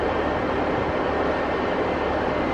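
A Northern train at Reddish South, a single-platform station, rumbles loudly and steadily close by, with a continuous broadband roar and no talk over it.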